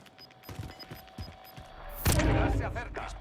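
Gunfire erupts in a shooter video game, with scattered thuds and clicks giving way to a loud, dense burst of shots, close and continuing, with a voice talking underneath.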